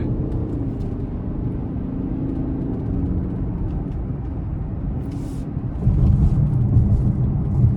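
Cabin of a 2026 Lincoln Corsair Grand Touring AWD accelerating in Excite mode, a steady low engine rumble and road hum that swells louder near the end, heard from inside without talk.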